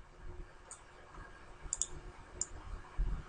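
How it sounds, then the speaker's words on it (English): A few faint, sharp clicks, spaced irregularly: a computer mouse being middle-clicked in a quiet room. "middle mouse click and drag"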